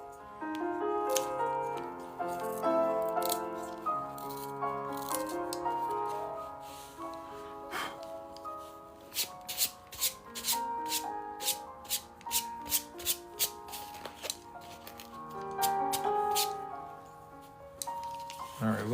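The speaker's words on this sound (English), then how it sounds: "It's not a very good sharpener." A pencil grinds in a handheld sharpener in a series of quick scraping turns, mostly in the middle stretch, under music and a speaking voice.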